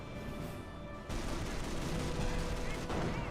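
Gunfire in Company of Heroes, a World War II strategy game, including an anti-tank gun taking shots: a steady crackle of distant small-arms fire that thickens abruptly into a denser, louder volley and keeps rattling on.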